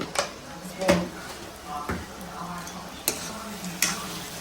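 A spoon stirs chili powder into a simmering fish and drumstick curry in a pan, making soft intermittent scrapes and clinks over a faint sizzle, with a voice speaking in the background.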